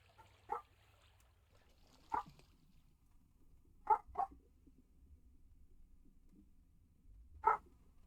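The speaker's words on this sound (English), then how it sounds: "Dog angry." In the horror video game Outlast 2, an angry dog gives four sharp, isolated barks at uneven intervals over a quiet low background, one pair of barks close together.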